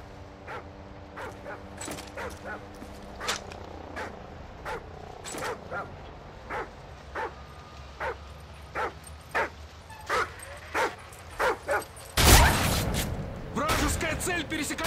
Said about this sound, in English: Team, enemy attack dogs are approaching your location.